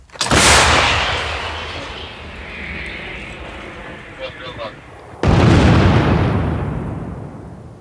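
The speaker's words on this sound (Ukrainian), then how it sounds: "Причіпна гаубиця 155-го калібру М777, відома як три сокири" M777 155 mm towed howitzer firing twice in an open field: each sharp, powerful blast is followed by a long rolling rumble that fades out, with faint shouting between the shots.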